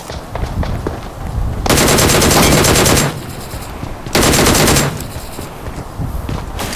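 Loud, sustained automatic gunfire from the PUBG Mobile video game comes in two long bursts, the first nearly a second and a half long and the second about a second long, with lighter game sounds and scattered shots between them.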